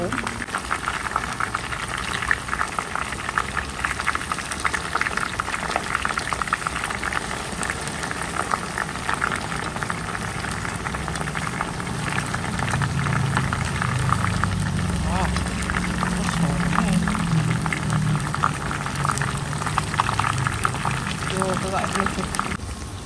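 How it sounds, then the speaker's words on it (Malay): Used oil from frying prawns bubbles and foams steadily in a pan, a dense crackling hiss throughout, with a voice speaking faintly underneath. "Minyak ni bekas goreng udang. Lepas tu dia berbusih."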